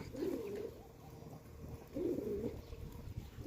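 Pigeons coo quietly at a distance in a backyard pigeon box, with two soft rolling bursts of calls separated by a brief lull.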